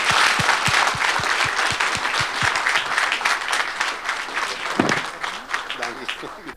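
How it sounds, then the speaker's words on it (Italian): An audience applauds, a dense, steady wash of clapping that fades slightly toward the end, with a voice speaking over it. "Un applauso, per favore."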